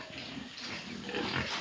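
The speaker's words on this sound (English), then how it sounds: "so beautiful pigs are here. Black pigs, white pigs." Black and white pigs on a meat farm in Nepal grunt and snuffle in a continuous, fairly close chorus of low oinking sounds.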